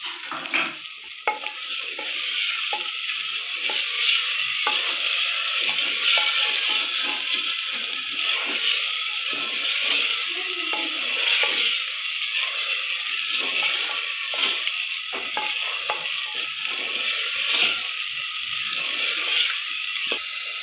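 Tomatoes go into a pan of aloo gosht, with a steady sizzle of frying and repeated scraping, clicking stirring strokes running throughout, close and fairly loud with no talk.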